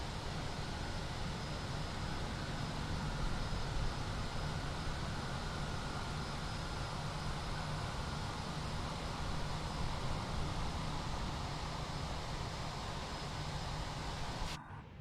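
A jet airliner sits on the runway in Microsoft Flight Simulator 2020 at Geneva, giving off a steady, loud broadband engine roar and rush that holds evenly throughout and cuts off abruptly at the end.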